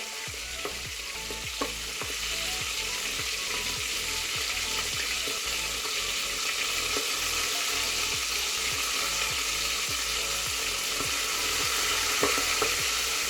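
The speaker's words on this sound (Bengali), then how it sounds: "একটু ঢেকে দিচ্ছি, কেন খুব ছিটকে যাচ্ছে, ওই জন্য একটু ঢেকে দিলাম।" Prawns fry under a lid in a covered pan, producing a constant close sizzle with a rapid, regular patter of spattering oil that runs steadily for the whole stretch.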